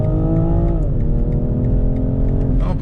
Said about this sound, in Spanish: Pisamos el freno, aceleramos un poco y ¡vámonos!